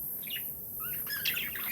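A pet budgie chirps in short, bright, high tweets over a steady hiss of background noise, fairly faint and with no one talking.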